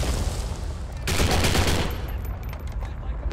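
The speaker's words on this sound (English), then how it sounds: "Why are you shooting at me?" Sustained gunfire from the video game Postal 4, a dense, loud fusillade of shots that swells in the middle, with a voice speaking briefly over it.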